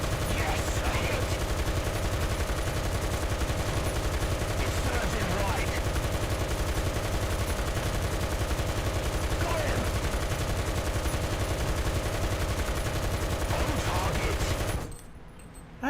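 A roof-mounted machine gun in War Thunder fires one long unbroken burst through a big ammo belt, a loud, dense rattle that holds for about fifteen seconds before cutting off abruptly into quiet.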